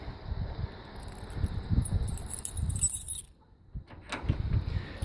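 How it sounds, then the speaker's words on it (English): Original keys for a 1967 Cadillac Eldorado jangle and clink near the open trunk, a few bright metallic bursts over low rustling handling noise, briefly pausing before more clinking. "Wrong key. Original keys, by the way."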